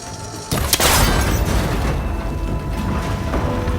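In Horizon Forbidden West, a shot hits a cable connector on an ancient tower, and it breaks with a sudden loud mechanical crack and clatter, followed by a sustained rumbling, grinding noise.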